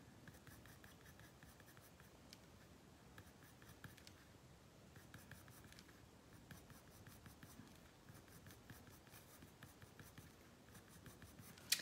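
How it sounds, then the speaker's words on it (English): Coloured pencil strokes on paper during a drawing session, a faint, close scratching in a steady rhythm of short repeated strokes, heard alone without talk. "I'm not letting my pencil strokes get any longer."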